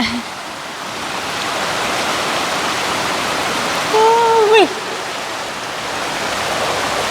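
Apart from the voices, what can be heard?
Michigan waterfall flowing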